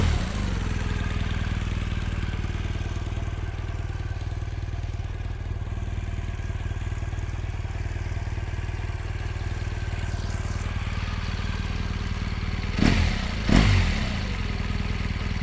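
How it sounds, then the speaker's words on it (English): A 2018 BMW R1200GS Rallye motorcycle engine idles with a steady, even low rumble from close by, and two brief louder clunks come near the end. "actually let's turn the bike on."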